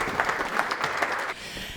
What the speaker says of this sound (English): So if we could all give Bronwen a round of applause.